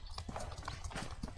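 Horse hooves clip-clop in a video game, a steady run of hoof beats heard close and clear, with voices talking faintly underneath.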